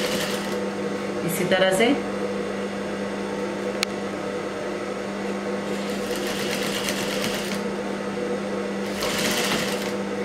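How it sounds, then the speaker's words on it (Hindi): A sewing machine stitches a blouse with a steady, close mechanical whir and hum running throughout, with a few louder surges, while someone talks over it in Hindi. "इसी तरह से पूरी सिलाई हम लोग मार लेते हैं"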